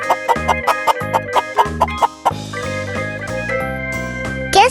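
A chicken clucks in a quick, rhythmic series of loud bursts, then gives a longer, drawn-out call, over a tonal backing in a farm-animal guessing quiz for children.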